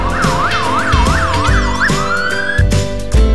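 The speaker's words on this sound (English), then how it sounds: "This is motorcycle ambulance." Motorcycle ambulance siren wailing loudly close by in fast rising-and-falling sweeps, then sliding into a long steady rising tone, over a rumbling vehicle engine.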